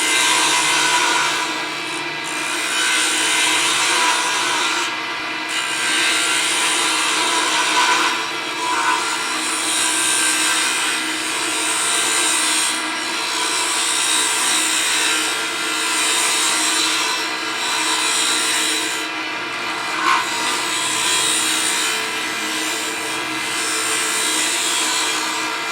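A wood lathe tool cuts a spinning pen blank for a fountain or rollerball pen, giving a steady close scraping hiss with small dips as the cut shifts, alone with no talk.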